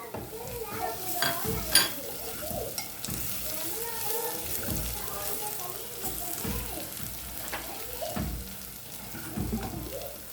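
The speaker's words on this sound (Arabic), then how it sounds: "وهنزل بفصين الثوم المهروسين دول كده عليه" Crushed garlic cloves sizzle in hot frying oil with browned onions, a continuous close hiss with occasional stirring and pan clinks. A voice talks faintly in the background.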